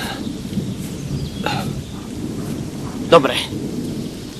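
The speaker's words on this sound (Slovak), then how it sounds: "Začína pršať." Rain falling steadily with thunder rumbling in an outdoor rural setting, a low continuous wash with a sharp crack near the end; a voice speaks briefly.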